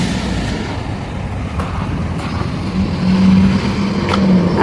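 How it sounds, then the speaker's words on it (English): Midday road traffic on a Friday rumbles past, with a steady low drone of cars and heavier vehicles that swells toward the end as a louder vehicle nears. "It's coming close to midday and the traffic is still like this."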